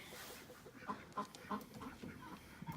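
Chickens clucking softly as they settle on the roosting bars in a cold coop, a series of short, moderately close calls at irregular intervals over a steady background hum.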